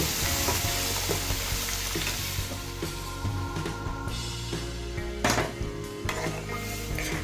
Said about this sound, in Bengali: একটু নাড়াচাড়া করে ডালটার সাথে মেথি শাকটা একটু কুক হতে কিছুক্ষণ ছেড়ে দেব।